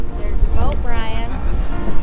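A boat motor runs steadily amid wind buffeting the microphone, with voices talking over the engine noise. The boat was recovered after 30 years sunk at the bottom of Lake Powell.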